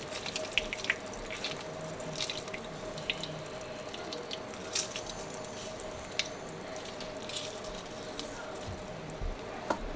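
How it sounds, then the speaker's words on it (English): Half a lemon squeezed by hand over salmon, juice dripping with a soft, steady patter and a few small splashes against a quiet, watery background hiss; no voices. "we're gonna add the juice of this half a lemon."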